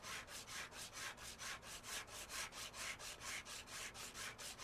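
Sandpaper rubbing on a car panel in the video game Car Dealer Simulator, a quiet rhythmic back-and-forth scrubbing with about twenty even strokes, alone without talk.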